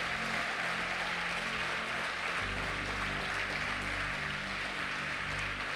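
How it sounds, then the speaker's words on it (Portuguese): Faint, distant clapping from a church congregation forms a steady wash of applause, held at low volume the whole time. "Então aplaude, ué."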